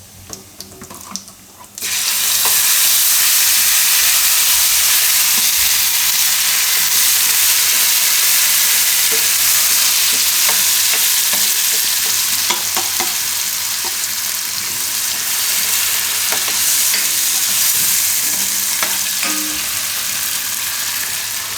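After a brief quiet moment, a loud, steady sizzle erupts as gravy with red chili powder hits a hot pan for a paneer-stuffed bitter gourd curry, with occasional scraping of stirring throughout.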